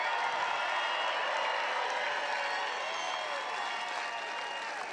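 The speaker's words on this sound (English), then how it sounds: "let's have a big round of applause for the men and women of the United States Armed Forces." Rally crowd applauding the men and women of the US Armed Forces at a Trump rally in Chesapeake, Virginia: a continuous, loud wash of clapping and crowd noise, steady throughout with a slight fade near the end.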